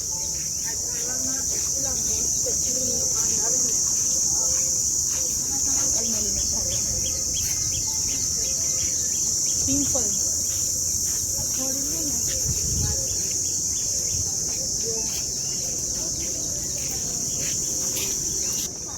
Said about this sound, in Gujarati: અહીંયા વધારે બોલે છે તમરા.